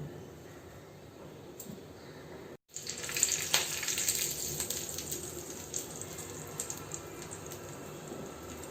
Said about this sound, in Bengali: সামান্য সাদা তেলে সর্ষে, কারি পাতা, শুকনো লঙ্কা, এটা গরম করব, তড়কাটা এর উপর দিয়ে দেবো